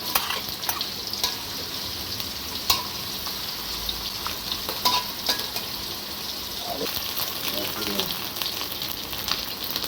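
Chopped onion frying in hot oil in a wok, a continuous crackling sizzle with scattered sharp pops and faint clinks of a utensil against the pan.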